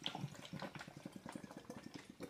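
Hot sink water pours steadily from a tap, a faint rhythmic splashing and gurgling close by with no talking.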